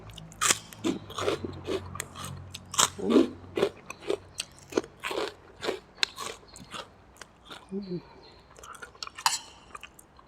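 Crispy potato crackers being bitten and chewed alongside a bowl of small-noodle pork soup with fried garlic, a string of close, sharp crunches and bites with faint clinks.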